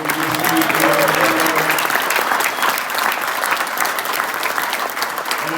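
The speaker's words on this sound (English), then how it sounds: "give a little round of applause to our amazing" Steady, loud applause from a large crowd, continuous clapping filling the whole stretch without pause.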